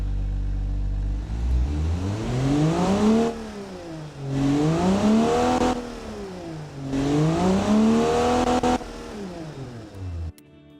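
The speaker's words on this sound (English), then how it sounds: "It's a nice little engine. I mean, it is an inline 6" A video game car's inline-six engine, in a recreated Studebaker Hawk, revs up and down in three long rising and falling sweeps, loud and close, then cuts off abruptly.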